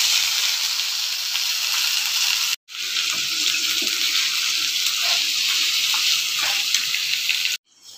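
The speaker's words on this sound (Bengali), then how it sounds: "তেল অবশিষ্ট থাকলো, তার মধ্যে আলুগুলোকে ছেড়ে দিয়ে ভেজে নেব।" Potatoes frying in leftover cooking oil, giving a steady, loud hiss and sizzle with faint crackles. The sizzle breaks off briefly twice.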